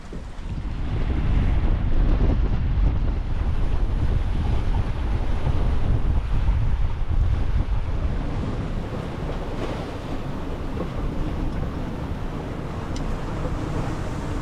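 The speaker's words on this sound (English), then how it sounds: "As I've kind of cleared land to my port side, the wind has picked up a lot." Strong wind roars and buffets the microphone over steady waves while a sailboat with no engine heads offshore in the Bahamas, past coral heads into open sea. The rush is loud and continuous, easing slightly toward the end, with no talk.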